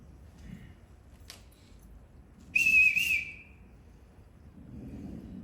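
A sharp, high whistle blast sounds once, lasting about half a second, loud against a quiet theatre stage during a live production of The Sound of Music, summoning the household staff.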